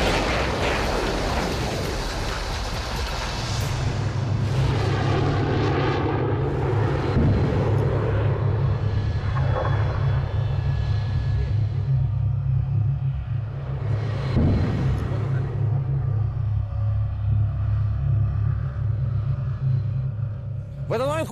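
A Pantsir-S1 short-range air defense system fires at a target: several loud roaring bursts of launches or cannon fire over a constant heavy engine rumble, without anyone speaking.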